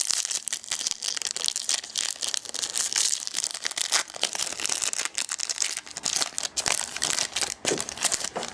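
Trading-card gift box package being torn open by hand, dense continuous crinkling, ripping and crumpling of wrapping, close and busy with brief pauses.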